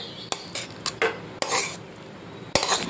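Cooked papaya and dal curry scraped and poured from a pan into a serving dish, several sharp metal clinks of a spoon against the pot with short scraping pours in between.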